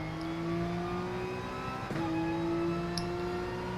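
Race car engine droning and revving as it leaves the pit lane on hard tyres in Gran Turismo, a steady mid-pitched hum with a brief gear-change dip midway.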